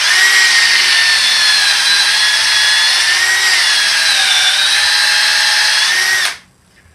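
A drill grinds loudly and continuously into wood for about six seconds, boring pocket holes with a Kreg Jig, its whine wavering slightly, then cuts off abruptly.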